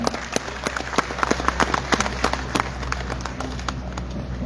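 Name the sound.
audience applause welcoming a guest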